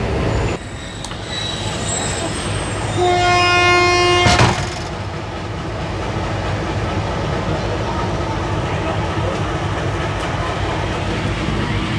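Awam Express passenger train led by a PHJ 20 locomotive sounds a long horn while passing beside a platform, over a steady loud rumble of rolling wagons that continues after the horn stops.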